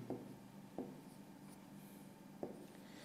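Pen or chalk writing out matrix elements during a business mathematics lesson, heard as faint scratchy strokes with a few soft taps over a low steady hum.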